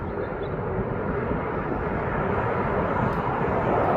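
A TUI airliner arriving from Lanzarote comes in to land at East Midlands Airport, its engines giving a loud, steady broadband roar that swells slightly toward the end, with no voices over it.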